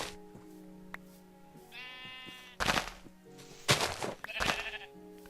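Sheep bleat in the video game Minecraft, several short nasal bleats rising and falling, some louder and closer, over a faint steady background tone.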